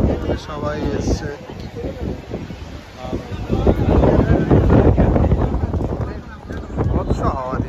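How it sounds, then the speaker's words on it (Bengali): Strong seashore wind at Kanyakumari, at the southern tip of India near the Vivekananda Rock Memorial, buffeting the microphone in a steady loud roar with surging gusts, with voices talking over it throughout. "বিভৎস হাওয়া দিচ্ছে"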